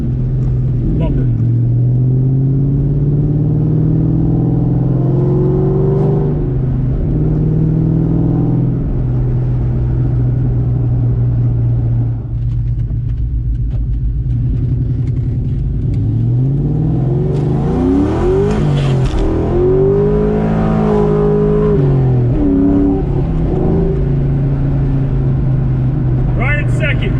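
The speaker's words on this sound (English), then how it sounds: "I would put this on the GoPro real quick and let you guys hear the old Mach 1" A 2003 Ford Mustang Mach 1 with a 4.6-liter 4-valve V8, recorded close by on a small camera mic. It holds a loud, steady idle, then rises and falls through several rev sweeps near the end.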